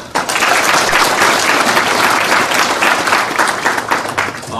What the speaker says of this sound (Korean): 모두 박수 한번 해주시기 바랍니다.